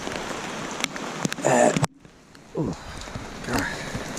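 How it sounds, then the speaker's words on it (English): Rain falls on a Feldon Shelter Crow's Nest roof top tent, a steady patter under broken bursts of nearby rustling and handling, with one brief spoken exclamation and a short lull midway. "You can see plenty of rain, runoff."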